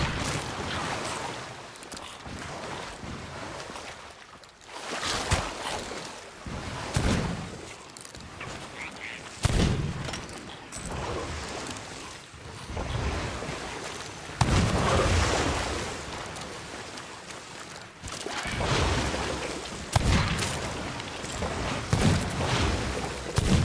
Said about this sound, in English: the ghost pistol was being wildly inaccurate trying to detonate this keg